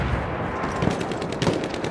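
A sentry in the Battlefield 1 video game fires a machine gun in a fast, steady burst of rapid shots, loud and close, lasting the whole moment.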